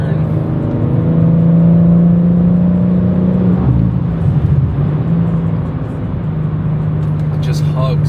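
A BMW M3 Competition engine drones steadily at close range, pulling through a sharp turn late at night with a rising then settling harmonic tone, while someone talks over it throughout.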